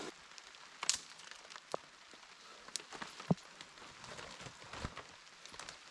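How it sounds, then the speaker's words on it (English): Steady patter of rain falling on a surface, with scattered louder drops and taps standing out against the constant hiss. "it's starting to rain for real."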